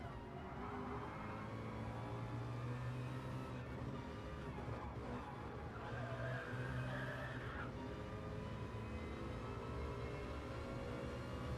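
Race cars lapping in a racing video game, a constant engine drone with shifting pitch and brief surges, fairly faint and steady, without talk.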